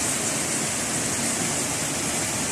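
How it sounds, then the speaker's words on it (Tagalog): Heavy rain pours down in a dense, steady hiss that fills the whole clip without letup, loud and close. "bumagsak na nga ang ulan"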